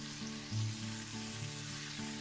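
Long beans tossed with salt and turmeric sizzle steadily in a frying pan, a continuous close frying hiss with a few soft stirring bumps, no voices.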